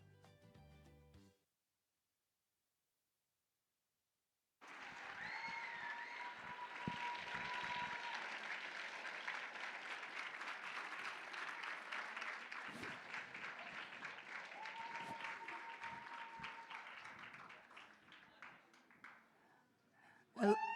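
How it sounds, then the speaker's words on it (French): Audience applause at a cosplay group contest, a sustained wash of clapping and some cheers after a brief gap, steady and fairly distant, with music or voices faintly at the edges. "on peut les applaudir bien bien fort"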